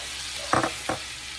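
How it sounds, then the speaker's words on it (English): Flour being whisked into hot fat to make a light roux for Southern cream gravy: a steady frying hiss with two short bursts of whisking or stirring, close and alone without talk. "we're gonna go ahead and put in our flour"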